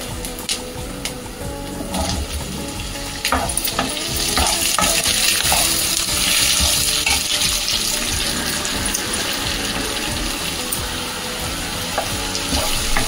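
Cucumber pieces sizzling in a hot pan with onions while a plastic spoon stirs them, a steady close frying hiss with scraping and clinks throughout and no talk.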